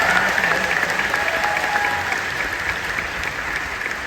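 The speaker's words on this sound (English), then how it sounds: "Let's give them another round of applause." A large crowd at a Disney's Hollywood Studios anniversary show applauds the park's cast members in a loud, sustained roar of clapping with faint cheers, tapering slightly as it goes on.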